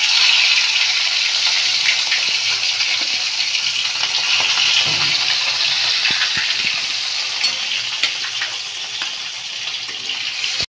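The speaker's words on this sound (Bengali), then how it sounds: "মাছটাকে আমি ভেজে নেব" Rohu fish frying in hot mustard oil in a home kitchen, a loud continuous bright sizzle that holds steady throughout with occasional small pops and light clinks, no talking.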